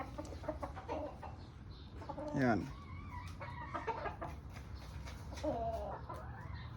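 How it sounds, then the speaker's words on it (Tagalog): A stag chicken offered for sale clucks and calls in short bursts, with one louder rising call midway and another later, close by under ongoing talk and background chatter. "Magandang manok to mga boss."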